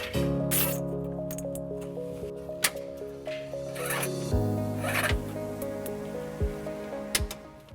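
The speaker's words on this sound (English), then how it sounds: "zip tying it all the way." Zip ties ratcheting shut as trailer wiring is fastened along the brake lines of a 2020 Nissan Altima, with a series of close, quick zipping rasps over a steady tonal hum.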